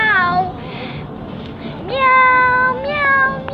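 A person imitates a cat with a string of drawn-out, high nasal meows, one after another with brief gaps, loud and close, alone without other sounds.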